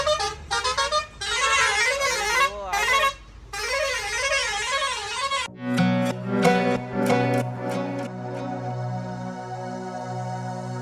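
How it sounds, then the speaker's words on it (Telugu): Lorry truck horns on a road near a toll gate blare one after another, warbling musical horn tunes giving way to sustained multi-tone blasts, loud and close throughout. "లారీ వాళ్ళు అందరూ హార్న్తో ఆడుకుంటారు."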